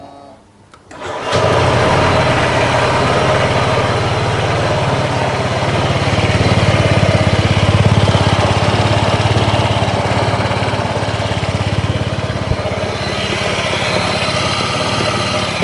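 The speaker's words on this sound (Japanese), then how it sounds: "日本仕様エンジン始動" A Japanese-spec Honda ADV160 scooter engine starts after a brief quiet moment, then idles steadily and close by with an even, continuous hum for the rest of the clip.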